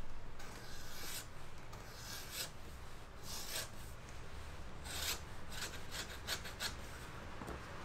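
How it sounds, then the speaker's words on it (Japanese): A leather tote bag's edge being chamfered by hand by a bag craftsman, a steady close scraping and rasping with repeated short strokes, heard alone without talk. "で今度面取りこの角をね、 はい、 削っていきます。"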